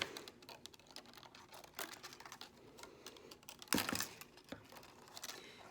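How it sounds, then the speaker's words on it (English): Scissors snip wedges off a plastic cup, giving quiet irregular clicks and crinkles with one louder crackling cut, close and faint with no voices. "I'm going to cut these off as close as I can to the circle now."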